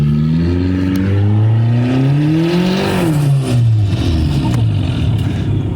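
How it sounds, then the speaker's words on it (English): A turbocharged Toyota Camry drives on a snowy street, its engine loud and close as the revs climb, peak and settle into a steady drone, with no voices over it. "we got the first street test drive of the Camry."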